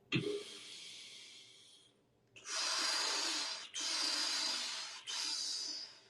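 Three forceful breathwork exhales, the first tapering off slowly, then two loud sustained breaths pushed out through the mouth in quick succession, close and breathy with no talk.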